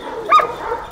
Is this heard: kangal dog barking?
yes